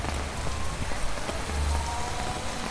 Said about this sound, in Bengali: সেখানে এক নাগারে বৃষ্টি চলছে সকাল থেকে